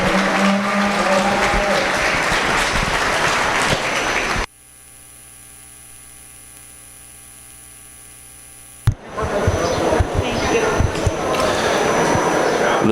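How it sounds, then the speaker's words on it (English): Onlookers at a beef cattle showmanship ring clap and cheer in an arena, broken by a stretch of near-silent mains hum before the applause and crowd noise resume. "Let's give them all a round of applause as they leave the ring."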